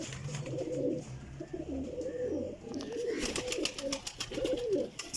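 Pigeons coo steadily at close range, several birds overlapping in soft, throaty rolling calls that run throughout, with occasional light rustles and a faint background hum; a flock of pairs of Pakistani flying pigeons is kept in a loft.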